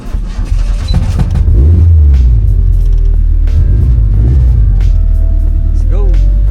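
A 4AGE-swapped owner-type jeep engine cranks and catches, settling into a loud, rumbling idle with a few revs close by, while a person talks over it.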